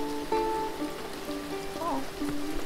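Rain patters steadily in a summer scene of a video game, a soft even hiss laid under bright, plucked musical tones.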